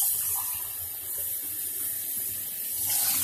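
Tap water runs steadily from a kitchen faucet into a sink, a continuous close hiss and splash that swells slightly near the end, with no talking.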